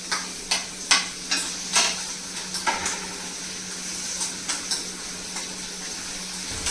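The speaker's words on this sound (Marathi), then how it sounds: "थोडंसं अगदी मी तेल टाकले आणि त्याच्यामध्ये मी हे सगळे जे मी कट करून घेतलंय ते एक एक करून मी फक्त परतवून घेते 5-7 मिनिटासाठी" Chopped pizza toppings sautéing in oil in a home kitchen pan, a soft steady sizzle punctuated by repeated sharp clinks and scrapes of a spoon stirring, close by, no talking.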